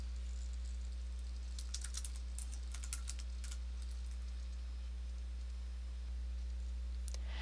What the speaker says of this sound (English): for the subject, you type in a brief title for the discussion